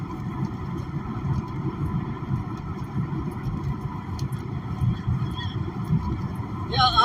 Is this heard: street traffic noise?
yes